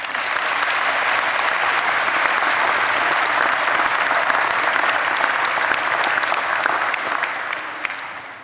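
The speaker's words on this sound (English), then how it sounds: "I think you all deserve a round of applause from the students" Sustained applause from a large audience at a university graduation ceremony, a dense, steady wash of clapping that holds for several seconds before easing off at the end.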